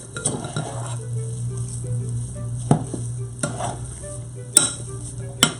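Chocolate crinkle cookie dough being mixed by hand in a bowl, with a steady soft scraping and stirring texture and a few sharp clinks of a utensil against the bowl, close and moderately loud, no talking.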